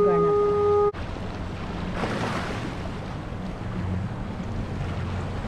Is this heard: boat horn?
yes